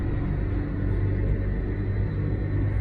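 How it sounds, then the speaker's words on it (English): Low, steady road rumble heard from a farm tractor on a main road as cars pass, a muffled continuous drone close by with no distinct pass-bys standing out and no talking. "See how many cars go past us on the straight."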